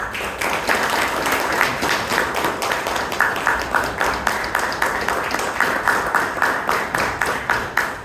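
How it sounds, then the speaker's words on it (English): Applause welcomes a speaker at a Bangalore Toastmasters Club anniversary meeting, with a roomful of hands clapping steadily and continuously from start to finish at fairly even loudness and no talking. "Please welcome him with a big round of applause"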